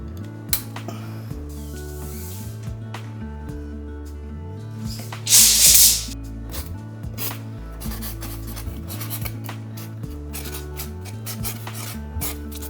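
Wooden floorboards being cut to length for a cypress house floor, a steady sawing rasp with repeated strokes, including one louder burst of cutting midway, close by with no talk.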